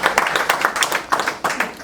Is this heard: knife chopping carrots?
no